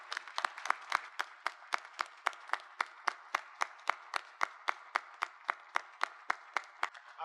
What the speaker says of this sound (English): Please join me in giving a round of applause to our honorees as they walk in